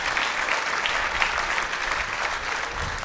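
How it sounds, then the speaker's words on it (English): Dense, steady applause from an audience at a charity event. The clapping stays loud and unbroken throughout. "Please give her a round of applause."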